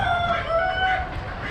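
A Cochin or Cochin-mix rooster crows once, loud and close, its drawn-out call ringing over the background noise of an Amish animal auction.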